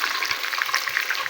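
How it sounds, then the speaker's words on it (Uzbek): Rice cutlets fry in hot oil inside a pressure cooker, giving a loud, close, continuous crackling sizzle with dense popping. "Kotletlarimizni mana hammasini birin-ketinlikda qizartirib olyapmiz."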